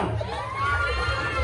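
Audience at a Navratri festival home game show, a dense crowd roar of cheering and children's shouts, loud and sustained, with a voice talking over it.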